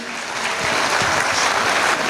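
A crowd at a school annual function claps steadily, a dense wash of applause that swells slightly louder and holds without a break.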